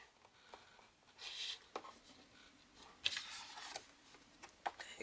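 Paper pressed onto a Tim Holtz folio is burnished with soft rubbing strokes, quiet close scraping passes coming in short bursts with small taps between them.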